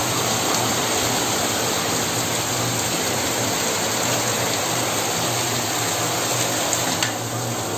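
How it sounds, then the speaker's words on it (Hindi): Heavy rain pouring down steadily, a loud, dense, continuous hiss and roar that fills the whole stretch with no breaks and no voices over it. "बारिश देख सकते कैसे जोर की हो रही है।"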